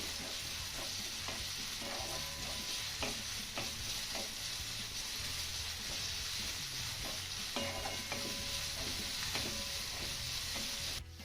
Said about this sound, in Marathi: आता हा घातलेला कांदा ना आपल्याला हलक्या सोनेरी रंगावरती परतून घ्यायचा आहे